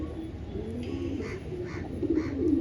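A grey pigeon coos in short, low, rounded calls over a steady background murmur, close and moderately loud, with a few brighter chirps from other birds mixed in.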